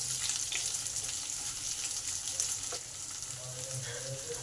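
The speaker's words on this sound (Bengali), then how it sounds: "পেঁয়াজগুলোকে ভালো করে ভেজে নেব।" Chopped onions fry in a pan with garlic and dried chilli, giving a steady loud sizzle with faint stirring scrapes throughout and no speech.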